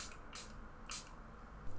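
Charlotte Tilbury setting spray mists onto a face in three or four quick, hissing pumps, close and fairly quiet, with pauses between bursts and no talking.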